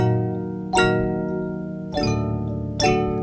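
Mbira melody array plucked in far-apart octave rows, three ringing chord strikes with long sustained metallic overtones decaying between them, close and clear with no voices.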